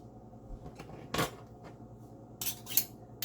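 A spoon scrapes and clinks in a bowl while mixing Trini cheese paste with mayo and pepper, soft and close, with a few sharper scrapes toward the end.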